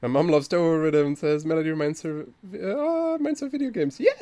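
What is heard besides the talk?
None of the usual background noises is heard.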